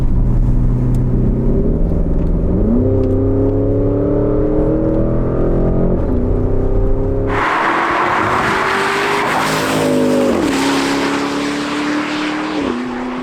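A 2021 Porsche Cayenne Turbo GT, a 640 hp super sports SUV, driven hard on winding roads through the Odenwald: a loud, continuous engine roar climbs and shifts through the gears, then turns into a rushing blast of wind and exhaust noise.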